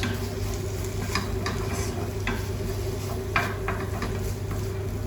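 Fish cake mixture with mustard is stirred round in a bowl, giving a soft, steady scraping and squelching texture over a constant low background hum, with a few slightly sharper clicks of the utensil.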